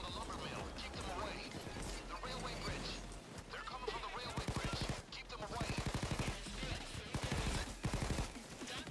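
Tommy gun fire in a video game, rapid bursts of automatic shots crackling in quick rhythmic strings, mixed with other game sounds and heard under a player talking.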